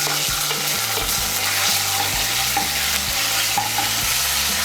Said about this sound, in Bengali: ফোড়নটা দিয়ে একটু নাড়াচাড়া করে নিয়ে এর মধ্যে আমি দিয়ে দেব আদা বাটা আর কাঁচা লঙ্কা বাটা